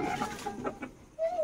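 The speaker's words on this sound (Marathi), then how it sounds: "हे इकडे जे पक्षी दाखवतो ते आपण घरगुती वाढ केली आहे" Domestic poultry raised on a mixed farm in the Konkan region, clucking close by in short repeated bursts, with one longer drawn-out call near the end.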